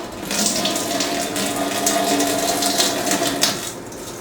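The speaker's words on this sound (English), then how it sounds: "let's pour our wort into our pot." Homebrewed beer wort for an Arrogant Bastard Ale clone is poured into a pot, a steady close splashing gush of liquid running for about four seconds with no talking.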